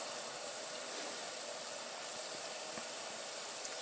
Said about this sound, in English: that water is a-boiling